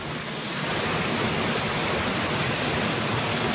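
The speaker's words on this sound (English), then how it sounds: "It's nice where these waterfalls are coming down, look." Waterfalls pour down the Swinner Gill valley as a steady, full rushing hiss, close and unbroken, with nothing else heard over the water.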